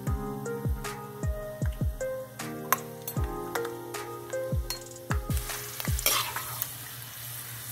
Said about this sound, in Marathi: अर्धा कप शेंगदाणे तळले